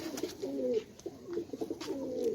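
Pigeon cooing from birds kept on a rooftop loft in Sialkot, a few soft, repeated low coos close by, with no talk in between.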